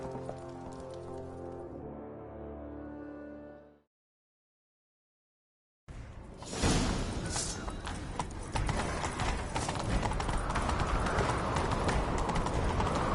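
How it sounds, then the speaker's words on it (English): Horse hooves gallop in The Witcher 3, a rapid rhythmic clip-clop thudding up close after a short musical passage and a gap of silence, with snorting and rushing movement sounds around it. "Grab a horse, we'll chase him down."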